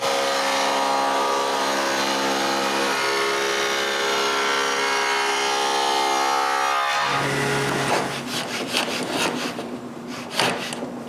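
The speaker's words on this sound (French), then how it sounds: "Sarah lève la lame et fait les coupes." Table saw blade cutting grooves into a wooden panel for a stepped secretary desk, a steady loud whir of sawing that runs continuously, then the cut ends and the blade spins down with faint rattling and handling noise.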